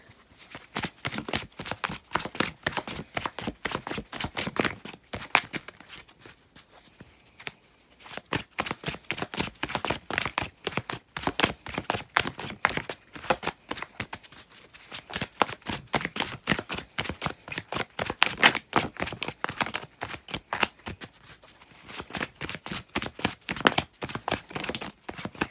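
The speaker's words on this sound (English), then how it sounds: "I'm trying to remember to shuffle like properly on camera a bit more" Tarot cards riffle and shuffle rapidly in repeated bursts, crisp close-up flutters with short pauses between rounds.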